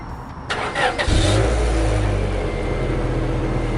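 A stock Japanese-market Honda Legend cranks briefly, then its engine catches and settles into a steady, even idle, warm rather than cold and fairly quiet, recorded close by from the rear.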